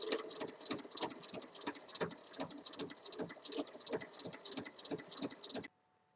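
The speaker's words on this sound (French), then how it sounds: "venir faire une surpiqûre tout du long à 1 mm" Sewing machine topstitching along a bag seam at 1 mm, a rapid even run of mechanical stitching clicks close by for several seconds before it stops, no speech.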